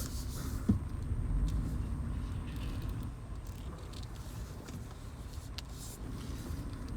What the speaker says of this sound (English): I'm trying to get parked here